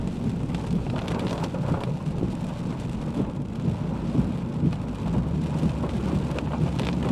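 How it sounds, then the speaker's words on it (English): Steady rain pours during a severe thunderstorm in Wisconsin or Illinois, a dense, continuous wash of drops drumming on a vehicle with low rumbling underneath, loud and unbroken throughout. "Oh, that's rain."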